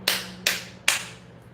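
Three sharp hand claps, evenly spaced and close, each ringing briefly before the next.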